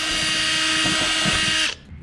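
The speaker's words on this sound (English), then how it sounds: "And I just drill through this" A power drill bores through an RV ladder mount, giving a loud, steady high-pitched whine that stops abruptly near the end, leaving quiet background.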